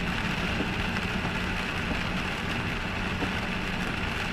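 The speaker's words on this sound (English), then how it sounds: "We're getting rain." Steady rain heard from inside a moving vehicle on a country road, a constant dense hiss mixed with a low road and engine rumble, no voices.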